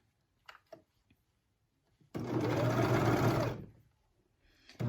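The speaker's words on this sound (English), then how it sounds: "I'm just going to have my serger going on the edge of the fabric" A serger runs along the edge of the fabric while attaching binding to a sports bra neckline, a steady loud whirring burst of about a second and a half between quiet pauses.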